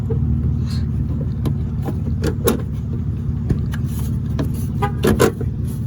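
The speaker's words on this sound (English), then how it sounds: "Who keeps on honking?" A car horn honks briefly near the end over a steady low engine rumble and scattered clicks, outdoors beside a 2006 Ford Mustang during a tail light bulb replacement.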